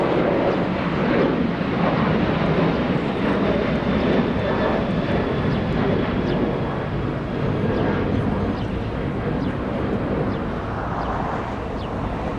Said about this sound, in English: You have a United 737 leaving 25 right. That's a next generation